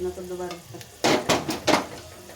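Pundi (roselle) leaf curry sizzling in a pan as it is stirred, a quiet start followed by three bursts of hissing, scraping fry noise close up.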